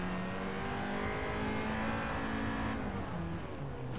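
A Honda Integra Type R DC2 in Gran Turismo 7 revs hard under acceleration on the Nordschleife, its engine note climbing steadily, then dropping briefly at a gear shift before pulling again, loud and close with no talk.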